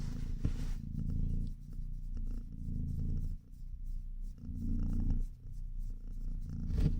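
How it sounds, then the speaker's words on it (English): A low, steady purr from a pregnant cat rumbles up close in long, rhythmic waves, with occasional light rubbing and rustling noises. "She's purring too."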